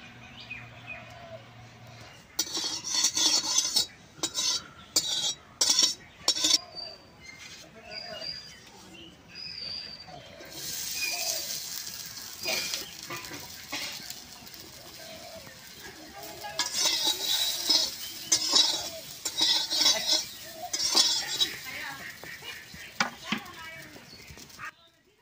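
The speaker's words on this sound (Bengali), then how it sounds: "আমি এই চহিটি অল্প ঘি দিয়ে বাইজা নেব।" Semolina chushi pitha stirred in a little ghee, heard as a run of sharp scraping and clattering strokes, then a steadier soft sizzle with more scraping, close and fairly loud, with no talk.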